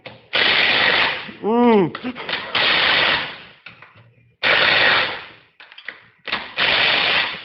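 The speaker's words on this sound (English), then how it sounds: "all I'm going to do is hammer these head bolts on with an impact" An impact wrench fires in several loud rattling bursts on engine head bolts, separated by short pauses and quieter mechanical clatter, close to the microphone.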